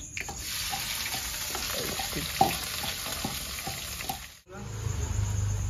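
Bay leaf, dried chillies, whole cumin and onion hit hot oil in a pan, giving a steady close sizzle with faint stirring scrapes; the frying pauses abruptly, then resumes with a low rumble.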